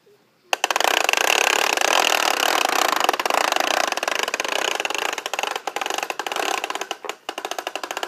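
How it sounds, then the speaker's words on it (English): A lawn mower engine starts up in a backyard and runs loud and steady, close by, with a sustained whirring drone that wavers slightly toward the end. "Mowing the lawn."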